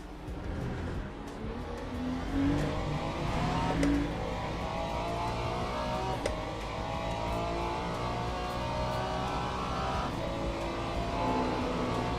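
A Ferrari race car engine in the sim racing game Le Mans Ultimate drones steadily throughout, a continuous mid-level roar with shifting pitch and no talking.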